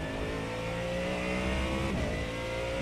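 A short course truck engine in the iRacing sim holds a steady, buzzing rev under throttle, its tone climbing slightly, then dipping briefly as it shifts and picks back up, loud and continuous.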